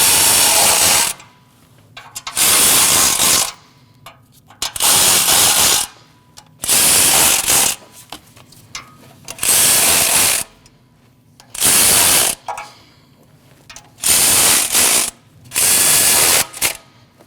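Ratchet wrench snugging down the knock sensor bolts on a 2.4L four-cylinder engine of a Jeep Cherokee, sounding as repeated bursts of rapid clicking, about seven runs of a second or so each, close and loud with short pauses between.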